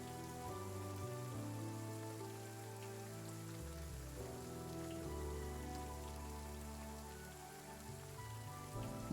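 Rain ambience setting a fantasy battle scene: soft, continuous rainfall hisses steadily beneath sustained, low musical tones, quiet and without any talking.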